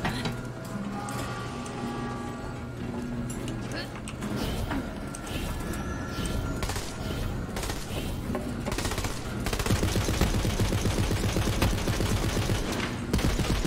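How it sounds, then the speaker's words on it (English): Assault rifle gunfire in the video game Borderlands 3, heard as continuous rapid automatic shots with dense crackling over game music and effects, growing louder near the end. "What the hell is that? It's my assault rifle."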